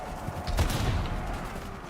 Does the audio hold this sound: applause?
no